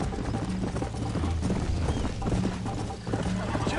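Horse hooves clip-clopping at a steady gallop in the Red Dead Redemption video game, a continuous rhythmic patter of hoofbeats close up, mixed with game music and occasional voice.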